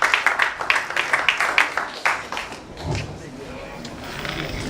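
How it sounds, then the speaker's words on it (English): A crowd at a Ghana event claps in a short burst of close, irregular applause that thins and fades into a quieter murmuring room. "So let's give him a big round of applause."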